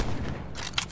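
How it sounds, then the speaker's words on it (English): Gunfire from a gold sniper rifle in the video game Call of Duty Blackout: loud, close, broadband bursts over a constant rumbling game backdrop, with one sharp crack standing out near the end and no talking. "Oh, I just shot a guy but didn't kill him"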